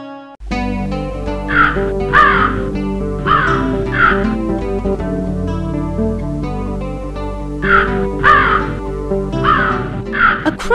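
Crow cawing in an animated children's fable, repeated harsh caws in clusters over a sustained musical background, loud and close.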